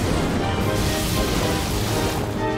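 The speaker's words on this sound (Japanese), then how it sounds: "雨ドロポン。" In the Pokémon Colosseum video game, a rain-boosted Hydro Pump water attack roars as a dense, loud rush of spraying water lasting a few seconds, with no voices over it.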